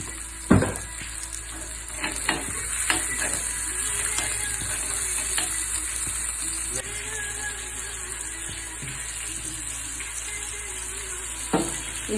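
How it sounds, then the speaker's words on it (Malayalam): Rice appam frying in a pan with ginger and a little salt, giving a steady sizzle with occasional stirring clatters throughout, close and moderately loud, with no talk. "അപ്പം അതൊന്നിങ്ങനെ മൂപ്പിച്ചെടുക്കുക"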